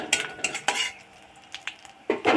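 Whole spices and a pinch of asafoetida temper in hot oil for a vegetarian chhana dalna while a utensil stirs them, giving a few scraping strokes over a soft sizzle, with a louder clatter at the end.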